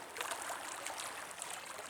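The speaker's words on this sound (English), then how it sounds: "the river is flowing into the Chesapeake Bay" James River water flowing steadily near Jamestown, Virginia, a wide river heading into the Chesapeake Bay, with a continuous airy rush and trickle and no voices.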